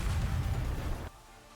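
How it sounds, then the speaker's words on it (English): A loud game explosion booms near the walls of a lift, a dense low rumble lasting about a second before cutting abruptly to quiet ambience. "A loud explosion rings out near the walls of the lift, followed by clouds of smoke"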